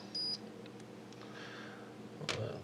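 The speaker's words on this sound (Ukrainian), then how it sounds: "Провіряємо на звичайну пищалку, центральний общ, загальний." A plain buzzer in a power-outage alarm circuit gives one short, steady electronic beep early on, followed by faint clicks and handling noise on a quiet bench.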